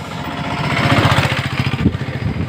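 A motorcycle engine runs nearby with a loud, rapid, buzzing putter that swells slightly and stays steady across the short stretch.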